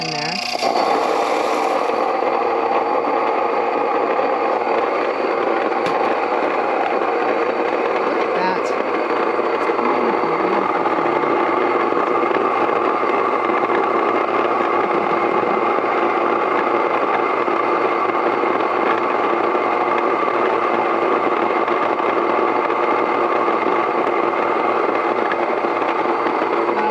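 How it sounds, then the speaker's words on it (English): Electric grain mill grinding einkorn into fine flour, a steady loud motor whir with a grinding rasp running continuously throughout, starting up near the beginning. "So I put my grain in here. I have to start the machine first."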